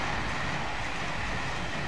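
Steady, loud rumble inside a moving railway carriage, a dense continuous roar of wheels and track noise with no distinct clacks and no voices.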